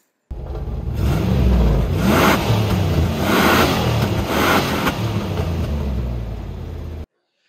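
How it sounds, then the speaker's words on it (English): A Jeep Grand Cherokee ZJ with 247,000 miles and a rattling exhaust runs and revs close by, its engine rumbling loudly with a rising and falling drone and no talking. "The exhaust is definitely rattling."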